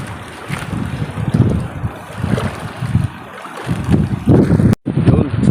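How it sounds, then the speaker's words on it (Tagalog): Strong wind and rain roar and buffet the microphone on a lobster fishing boat at sea, over churning water and a running boat engine, loud and continuous with gusty surges. "May ulan dala at saka hangin na malakas."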